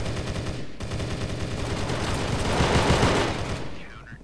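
Rapid automatic gunfire from a Roblox CS mode match, fast repeated shots, close and loud, with a short pause early on before more shooting, under a voice speaking briefly.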